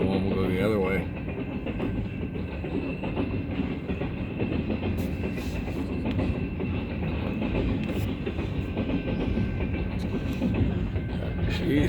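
A BNSF freight train rolls steadily down the line, its wheels clattering rhythmically with a continuous rumble at moderate distance, and faint voices occasionally murmur underneath.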